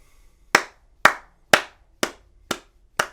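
Six crisp hand claps land evenly about half a second apart, sharp and close, each with a short decay, forming a steady pulse with near silence between.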